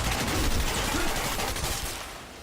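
Rapid automatic gunfire from a heavy-recoil weapon in the video game Quantum Break, a dense loud burst of shots that tapers off toward the end.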